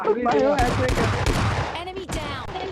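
Gunfire from an S12K shotgun in PUBG Mobile Lite sounds as several rapid, loud blasts in quick succession, close and overlapping, with someone talking in between.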